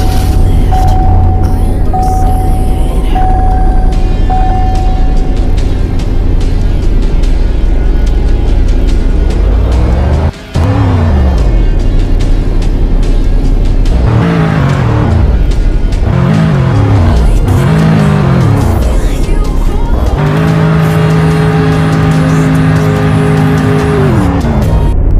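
A 2007 Revver Sport car in Roblox Greenville revs loud and close, engine pitch sweeping up and down in repeated bursts, then settling into a steady high drone with a brief cut in the middle.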